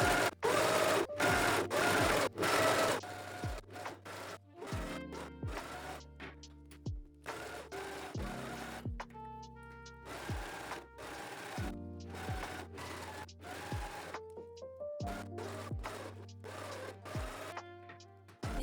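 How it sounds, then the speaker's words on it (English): An overlocker finishes the raw edges of tweed fabric in short bursts, its fast motor whirring and stopping repeatedly in a series of close, moderately loud runs with brief pauses between. "Finish with an overlock all raw edges except for these curved lines of the armholes and neckline."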